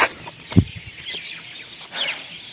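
Birds calling outdoors in the evening, a few clucking and chirping notes scattered over a quiet outdoor background, with a louder call near the start and another burst of higher chirps toward the end.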